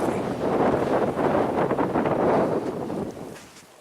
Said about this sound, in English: The wind is starting to pick up now.